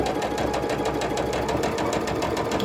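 A sewing machine stitches a jelly roll quilt table runner, with a fast, even mechanical chatter running steadily and close.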